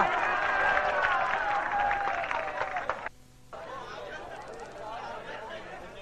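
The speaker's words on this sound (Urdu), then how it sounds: "تالیاں تالیاں" Audience applause at a Punjabi-language mushaira poetry gathering, moderate clapping mixed with a voice over a loudspeaker for about three seconds, then a short break and softer crowd noise.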